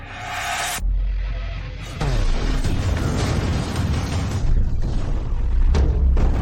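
Explosions going off across a military base in an ancient-times battle scene: deep, heavy booms and rumbling blasts rolling one after another, loud and continuous with layered impacts.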